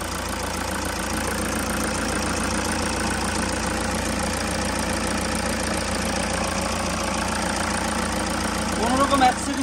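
Close, steady idle of a 2012 Toyota Hiace Super GL 3000cc turbo diesel, an even low clatter holding constant throughout with a slight rise near the end.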